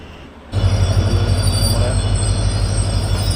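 A loud train rumbles in abruptly at Vaniyambalam railway station and keeps roaring steadily nearby, with low droning engine noise and faint squealing wheels.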